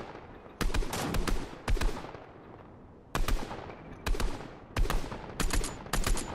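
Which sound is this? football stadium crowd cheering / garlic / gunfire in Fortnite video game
gunfire in Fortnite video game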